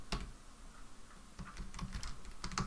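Close-up typing on a computer keyboard while filling in a blog field, with quick irregular bursts of key clicks across nearly three seconds and a louder flurry toward the end.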